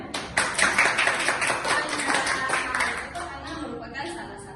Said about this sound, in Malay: Macam mana kita tepuk tangan?